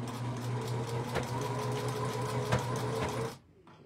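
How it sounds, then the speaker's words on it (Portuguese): An overlock sewing machine stitches the hem of a doll skirt, a steady loud mechanical whir with rapid needle chatter running for over three seconds before it stops abruptly. "Overlock da acabamento especial."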